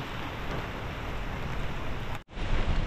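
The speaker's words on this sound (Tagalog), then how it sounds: "Ang lakas ng ulan." Heavy rain pours down in a dense, steady roar, close and loud, broken by a brief sharp drop to near silence before the downpour resumes.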